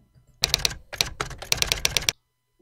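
Fast bursts of keyboard typing, crisp and close, in several quick clusters of keystrokes separated by brief pauses, then silence at the end.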